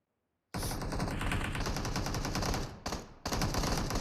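Rapid automatic gunfire in a competitive video game scrim bursts out as a dense, continuous rattle, loud and close, with a brief gap before the firing resumes.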